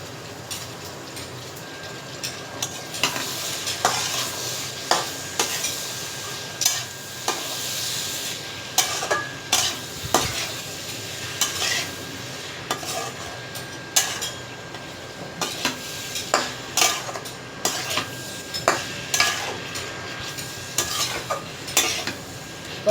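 Dried chela fish curry with potatoes is stirred and fried in a pan, with a steady sizzle under repeated scraping and clinking strokes of a utensil in a close, rhythmic pattern.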